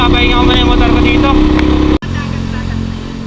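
A kolong kolong motorcycle engine runs loud and steady up close after a steep uphill ride on a Bicol trip, with a brief cut near two seconds before the drone resumes.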